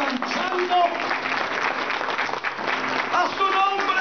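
A church congregation claps enthusiastically for a few seconds, a dense patter of applause with voices calling out over it.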